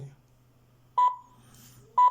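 A small Victure PC660 camera gives two short electronic beeps about a second apart after restarting, clear and close over a quiet background.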